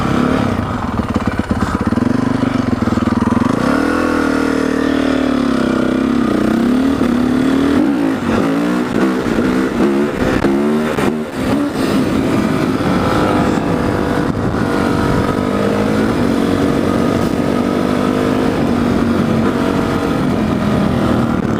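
A Honda CRF 450 dirt bike under way, its engine loud and near, rising and falling through revs and gear changes, with a burst of sharp throttle blips in the middle and a steady drone after.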